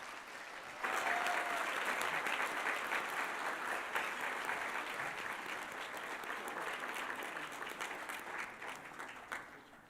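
Sustained audience applause at an awards ceremony, starting abruptly about a second in and holding steady as a dense, even roar of many hands clapping, tapering only slightly toward the end.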